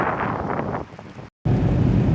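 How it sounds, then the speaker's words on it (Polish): Wind buffets the microphone with a loud, rough low rumble during snowfall, cutting out for an instant before gusting back just as strongly. "wiatr wieje taki nieprzyjemny dosyć"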